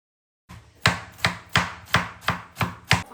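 Bitter gourd being chopped with a knife on a board, about seven evenly spaced, sharp, close thuds after a brief silence, with no voices.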